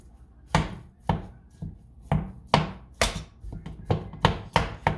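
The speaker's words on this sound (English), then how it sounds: "use a spatula and basically chop it all up and get it all separated" A spatula chops and scrapes ground beef browning in a pan, about a dozen sharp, fairly loud strikes in an uneven rhythm.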